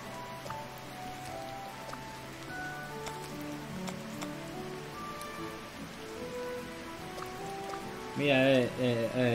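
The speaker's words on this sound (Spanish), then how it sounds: "¿cómo llueve?" Steady rain falls in the video game Kitaria Fables, a dense even patter filling the whole stretch, with game music tones and a voice talking over it near the end.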